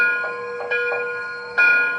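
An MTH Premier PS3 Virginian Triplex model locomotive rings its bell in a few bright, clear strikes at uneven intervals, each left ringing over a sustained metallic hum, close and moderately loud.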